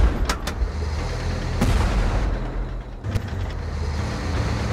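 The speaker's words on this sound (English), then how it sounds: "We are under gunfire!" Heavy tank cannon fire and engine rumble in the tank battle video game Tank Force: a few sharp blasts, near and loud, over a continuous low motor drone, with no voices.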